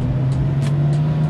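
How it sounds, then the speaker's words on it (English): An older car's engine running steadily after starting right up, a continuous low idle hum close by with a few faint higher hisses, no talk. "Starts right up, no issues of battery draining"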